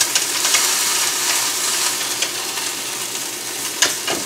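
Food sizzling and frying in an uncovered pan, a steady close hiss with scattered small pops and a few faint clatters, with no talking.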